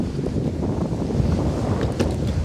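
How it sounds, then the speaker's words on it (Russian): Strong wind buffets the microphone outdoors during longboard riding, a continuous low roar and rumble, loud and close, with no voices. "Против ветра, правда, ветер поднялся у нас"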